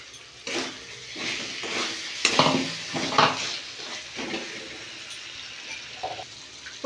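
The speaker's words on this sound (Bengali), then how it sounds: "তেল ছেড়ে গেছে মশলাটা, এবার আমি ভাজিয়ে রাখা পটলগুলো এর মধ্যে দিয়ে দেবো।" Fried pointed gourds (potol) tipped into a pan of sizzling spice masala for potol dorma, with clattering and stirring against the pan, a few louder scrapes and clanks over a steady frying hiss.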